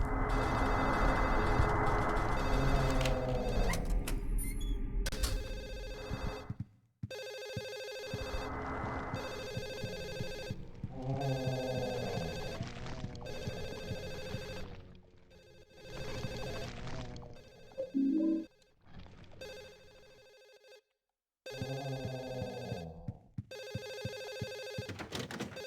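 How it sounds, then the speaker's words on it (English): In Silent Hill 4, a telephone rings on and off in regular bursts separated by short gaps, loud and clear over a dark ambient game soundscape, with no one talking. "where the hell is this goddamn phone ringing from?"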